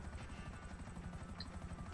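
An Akula helicopter in GTA V, a steady rotor thrum with rapid regular chopping pulses, continuous and fairly faint with no talk over it.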